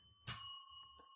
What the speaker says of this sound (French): des belles sonorités avec nos différentes cloches